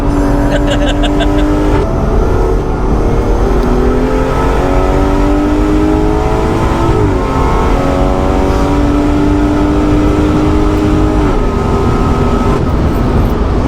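Turbocharged BMW M240i tuned to about 510 bhp accelerating hard on a race track, heard from inside as a loud, steady engine roar with rising gear-by-gear tones throughout and brief talk mixed in.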